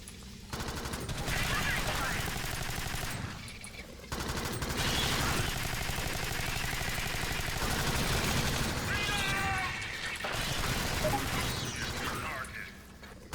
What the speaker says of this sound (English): Sorry, didn't mean to shoot squad mates.